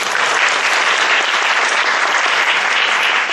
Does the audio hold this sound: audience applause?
yes